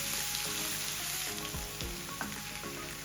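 Crushed ginger and garlic dropped into hot oil for a soya meat curry, a dense close continuous sizzle with crackling and a few stirring scrapes, no talking.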